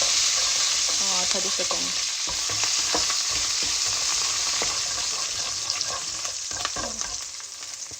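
Coriander leaves sautéing in tomato chutney over a low flame, a steady soft sizzle with scattered stirring scrapes throughout, while a voice speaks briefly.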